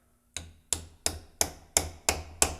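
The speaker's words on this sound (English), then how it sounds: "Now you're going to take a hammer and tap it all the way down in there." Seven sharp metallic hammer taps fall in a steady rhythm as a part is driven down into a hole around a bolt, each strike close, loud and ringing briefly, with no talking.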